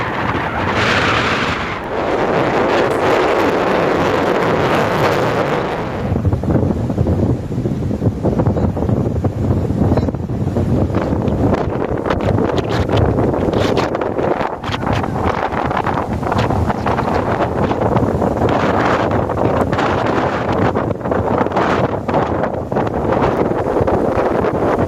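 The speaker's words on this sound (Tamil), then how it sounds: "கடற்கரை பகுதியில் சூறைக்காற்று வீசி வருகிறது" Gale-force cyclone wind batters a beach, a loud continuous roar of buffeting gusts and microphone rumble that stays heavy throughout with no voices.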